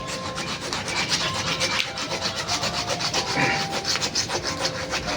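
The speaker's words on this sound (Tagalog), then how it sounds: "Kailangan natin lagariin yung malaking ugat." A hand saw cutting through a thick, very hard tamarind tree root during bonsai repotting, with steady back-and-forth rasping strokes up close and no talking.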